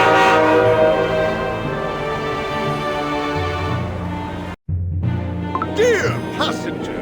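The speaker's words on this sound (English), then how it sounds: "Our train is departing." A departing holiday express train in the Cookie Run Kingdom game sounds a long sustained horn blast, loud and near, that cuts off abruptly; rail clatter and bright chiming effects follow.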